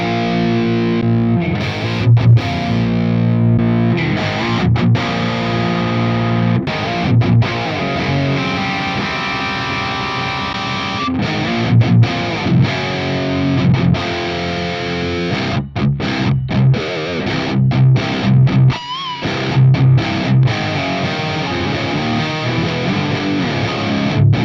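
Electric guitar played through captures of a rare Mesa Boogie amp in ToneX, heavily distorted, with chugging riffs, sustained chords and short stops, loud and close with no voices.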